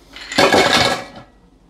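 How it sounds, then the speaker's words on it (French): Ice cubes emptied from a cocktail ice strainer while making an espresso martini, a single loud, close rattling clatter of ice against metal lasting under a second before fading out. "Donc on va venir prendre notre passoire à glace. Vous venez vider vos glaçons."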